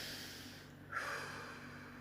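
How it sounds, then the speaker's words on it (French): A woman takes one deep breath in during a calm protective meditation, a soft airy inhale rising near the middle against quiet background hiss. "Je respire."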